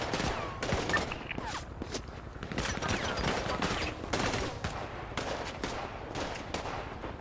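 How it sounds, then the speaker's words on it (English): Dense, rapid gunshots from several weapons in a multiplayer video game firefight at a castle, sharp cracks repeating in clusters throughout, with occasional faint talk underneath. "I'm shooting him through the fucking crevice here"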